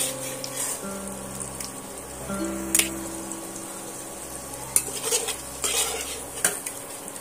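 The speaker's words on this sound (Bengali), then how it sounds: "এবার আমি আলুগুলো তুলে নেব" Golden-fried potato pieces are lifted from hot oil during fish curry cooking, with metal utensil clinks and scrapes against the pan over a low sizzle and a steady background hum.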